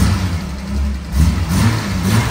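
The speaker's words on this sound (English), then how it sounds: "Rev it up a little bit." A 1962 Jaguar XKE six-cylinder engine revs loudly and close by, its throaty roar rising and falling in two strong surges over a steady low rumble, with no talking.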